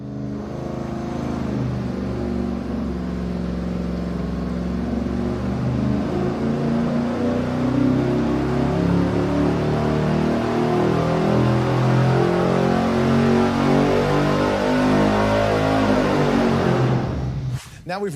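A V8 race engine on a dynamometer running on seven cylinders with one spark plug wire pulled, holding a loud, steady, uneven drone for the full length before cutting off abruptly at the end.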